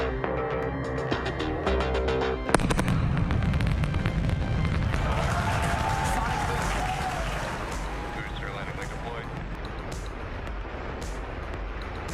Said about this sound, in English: That sonic boom is great for us.